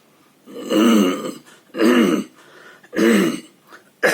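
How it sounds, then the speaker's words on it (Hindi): Three heavy, throaty coughs or throat-clearing bursts from a man with an itchy throat, evenly spaced and close up, with a short catch of breath at the end. "सॉरी, खांसी हो रही थोड़ी, गले में खिचखिच है"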